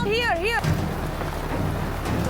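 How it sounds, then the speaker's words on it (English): Heavy rain pours during a motorbike trip across Java and Sumatra, a steady, close roar of water with a low rumble beneath it. A voice rises and falls briefly at the start. "It's still raining a lot."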